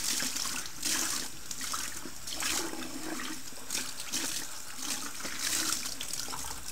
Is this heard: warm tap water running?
yes